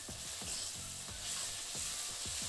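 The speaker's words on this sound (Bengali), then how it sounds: "পেঁয়াজটাকে বেশ কিছুক্ষণ ভেজে নেওয়া হয়ে গেছে এখন এর মধ্যে দিলাম অল্প পেঁয়াজ পাতা কুচি" Onions frying in a pan with chopped spring onion greens, for a Bengali fish curry with cauliflower and potato, sizzle steadily while a spoon stirs in repeated scraping strokes, close and continuous, with no voices.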